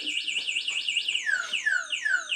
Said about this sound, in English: if anyone tries to move this or steal it, the alarm goes off and the wheels lock up as well